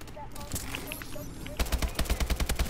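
AK-12 rifle gunfire in Call of Duty exo survival mode: scattered game effects give way to a loud, rapid automatic burst of evenly spaced shots over the last second or so.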